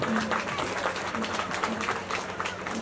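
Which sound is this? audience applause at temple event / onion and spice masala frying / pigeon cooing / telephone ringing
audience applause at temple event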